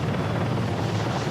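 Helicopter flying over the island of Tanoa in a game, a steady loud rotor and engine drone with dense low thumping, continuous and close, with no talk.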